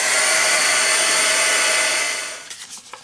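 A hair dryer blows steadily and loudly close by while drying an art journal page, then switches off and winds down, leaving a few soft knocks.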